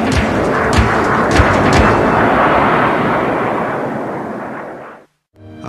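F-35 stealth fighter jet, a loud broadband roar close by with several sharp thumps early on, fading steadily before cutting to near silence.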